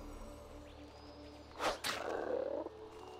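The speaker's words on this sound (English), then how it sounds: "there's a frog as well" A frog croaks in the Jade Forest in World of Warcraft: Mists of Pandaria Remix, two loud bursts against steady game ambience.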